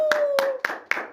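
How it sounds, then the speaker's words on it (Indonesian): A small group claps at a school podcast recording for the Jawa Pos SMA Awards 2022 at SMA Santo Carolus Surabaya. Four sharp, evenly spaced claps sound close by over a faint steady tone. "Kasih aplaus dulu dong."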